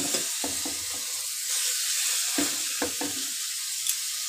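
Onion paste fries in hot oil, a soft steady sizzle broken by several distinct stirring scrapes and knocks against the pan, close by and moderately quiet, no voices.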